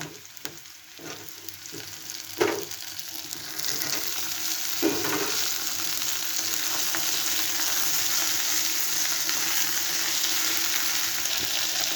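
Okra dropped into hot oil with browned garlic, a few knocks and stirs early, then a loud, steady close sizzle that swells and holds.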